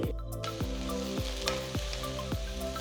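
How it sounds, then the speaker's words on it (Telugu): Chopped onion and broccoli pieces stir-frying in a pan for a vegetable paneer dish, a steady close sizzle with occasional stirring scrapes and soft music underneath. "ఒక్కసారి కలిపి వీటన్నిటిని కనీసం మూడు నిమిషాలు వేయించాలి"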